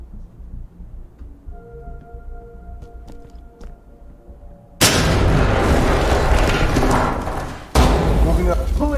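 A grenade goes off in the tactical shooter Ready or Not: after a quiet stretch with a low hum and soft talk, a sudden loud, close blast erupts and sustains into a rumble, followed by a second heavy boom.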